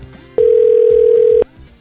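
A loud telephone tone sounds as a single steady beep lasting about a second, heard close up over faint low background noise.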